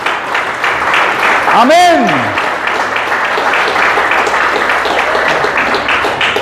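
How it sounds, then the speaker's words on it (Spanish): Congregation clapping loudly in church, a continuous wash of applause with a voice calling out and rising and falling cheers over it. "Un aplauso al Señor."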